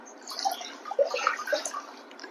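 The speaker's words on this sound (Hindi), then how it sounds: "बाहर रखे हुए मग से अपने दोनों पैरों को बारी बारी से टब के अंदर ही धोएंगे" Feet rinsed in turn inside a tub with water scooped from a mug: soft splashes and drips, close and gentle, with a few brighter plinks of falling water.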